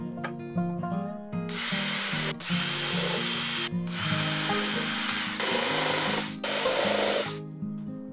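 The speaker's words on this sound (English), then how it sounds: "I'm going to go ahead and screw the back ones in first" A power drill drives screws into a wooden tray, close and loud, in three or four whining bursts of a few seconds each separated by short pauses, over a steady background hum.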